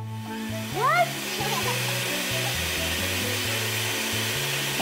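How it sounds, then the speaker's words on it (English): An electric mixer whirs steadily through buttercream frosting ingredients, a loud, constant motor drone that shifts pitch now and then, after a brief swooping sound at the start. "Start off by mixing everything but the butter together."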